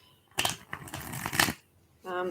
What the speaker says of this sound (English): I think that's 100 shuffles enough.